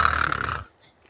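A person imitates snoring with a close, loud, raspy rattle lasting about half a second, then cuts off abruptly into near silence.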